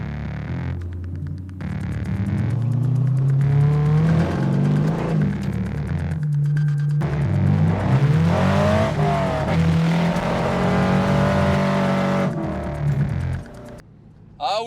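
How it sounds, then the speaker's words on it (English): A 2002 Corvette Z06 with a K&N intake and catless exhaust rumbles loudly with a deep throbbing note, rising and falling through revs for several seconds before briefly dropping off near the end. "I always have actually loved the sound of a Vet, even a stock Vet"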